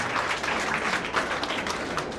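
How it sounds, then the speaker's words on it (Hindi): An audience at a book launch event bursts into loud, dense applause, a continuous wash of many hands clapping close by for a couple of seconds with no voices over it. "और जोरदार ताली के साथ आप अभिनंदन करें"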